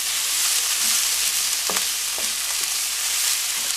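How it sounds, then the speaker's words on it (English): Onions frying in a pan for chow mein, a steady soft sizzle with a few light scrapes and stirs, no talking. "the onions have now started to get colour on them"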